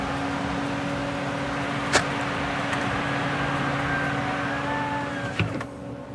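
A Chevy SSR engine idles steadily in park with no air conditioning running, a constant low hum with a faint whine, plus a couple of brief clicks or knocks, heard alone without talk.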